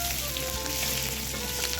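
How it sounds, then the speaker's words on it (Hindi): Curry leaves, finely chopped ginger and green chilies sizzle in hot oil, a steady, close crackling fry with no voices over it. "करी पत्ता ऐड कर देंगे, फिर बारीक कटी हुई अदरक, बारीक कटी हुई हरी मिर्च डालकर इसे भूनेंगे"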